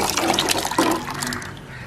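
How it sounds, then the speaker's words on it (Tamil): Spices dropped into a pot of boiling water for an easy vegetarian meal, a close splash and bubbling, gurgling rush of water that tapers off over a couple of seconds, with no talk. "இப்போ இந்த கொதிக்கிற தண்ணிக்குள்ளே இதை விட போகிறோம்."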